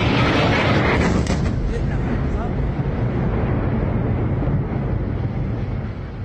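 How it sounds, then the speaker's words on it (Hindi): Deep, sustained rumbling booms of explosions in Lebanon roll and echo continuously, loud at first and slowly fading, with voices faintly underneath. "ये धमाकों की गूंज"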